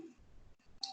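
A single computer mouse click as a checkbox is ticked during a Java JSF web project setup, a short sharp tap near the end of an otherwise quiet moment.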